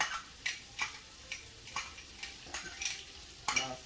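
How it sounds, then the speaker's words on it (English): Sliced bell peppers sauté in a seasoned pan with a soft, steady sizzle, broken by regular scrapes and taps of a utensil stirring them roughly every half second, close by and fairly quiet. "I'm going to begin to saute those"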